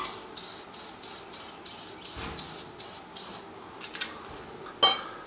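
Aerosol brake cleaner sprayed onto a car's brake rotor in a series of about ten short, hissing bursts in steady rhythm, close and fairly loud, then a pause with a few faint clinks and one last brief spray.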